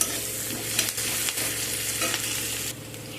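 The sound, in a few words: medium onion frying in oil until reddish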